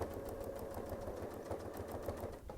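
Sewing machine stitching a quilt along a ruler for ditch quilting, a steady close mechanical hum with rapid, even needle clatter throughout.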